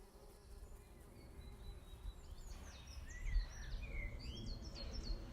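A low insect buzz drones steadily under faint outdoor ambience, with birds chirping and twittering in the background.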